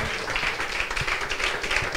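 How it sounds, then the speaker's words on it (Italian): A church congregation claps together in praise of Jesus, a dense, steady patter of many hands lasting throughout, moderately loud, with a voice faintly mixed in. "Facciamo un applauso a Gesù."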